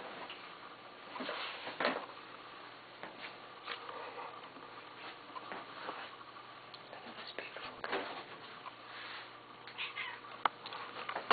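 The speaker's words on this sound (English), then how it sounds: "She's a young cat." A young shelter cat meows softly several times indoors amid light ticking and faint room noise, with no talk over it.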